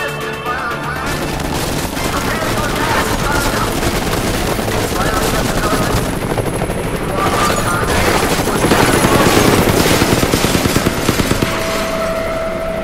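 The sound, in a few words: helicopter machine gun fire in the video game Deadlight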